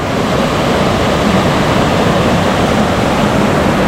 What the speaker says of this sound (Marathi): आता इथं ओढा आहे